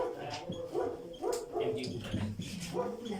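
A dog barks and yips in short bursts, roughly four or five moderately loud barks in three seconds, mixed with a voice during an indoor chemistry lecture.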